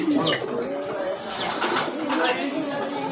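Domestic pigeons cooing in a loft, a steady layered murmur of soft calls close by, with faint human voices mixed underneath.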